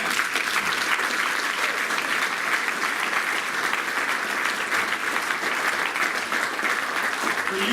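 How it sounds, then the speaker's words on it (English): A dinner crowd at a college basketball friends event gives the coach a round of applause, dense and steady clapping that carries evenly through the whole stretch without letting up. "So, a round of applause for Coach."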